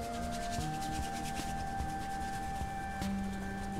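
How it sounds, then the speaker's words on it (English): A paintbrush works gesso into a stretched canvas in a crisscross motion, giving a steady, close, soft rubbing and scrubbing sound that runs on without pause and with no talk. "I just get a little bit on my brush, and then I go in a crisscross motion."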